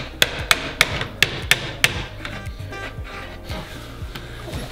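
A hammer strikes sharply at a door hinge pin, six quick ringing metallic taps at a steady rhythm, followed by softer dull knocks, close up.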